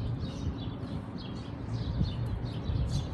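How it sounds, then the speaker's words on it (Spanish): Small birds chirping outdoors in a garden setting, faint scattered tweets and calls over a constant broadband outdoor noise bed, with no talk. "el sonido de los pajaritos"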